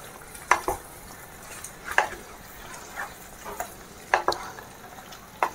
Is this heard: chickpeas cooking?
yes